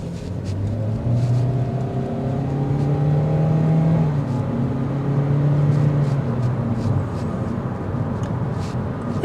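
A 2024 Kia Forte GT-line accelerates, its engine note rising steadily in pitch through the gears, heard from inside the cabin with a continuous moderate drone and a brief dip as it shifts.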